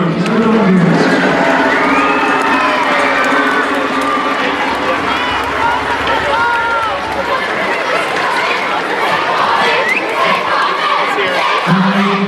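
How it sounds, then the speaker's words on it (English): Crowd at a Gaelic games match for a girls' team erupts in cheering, shouting and chatter, a dense continuous roar with voices calling out across the whole stretch. "a big round of applause for the girls from Ovens, please"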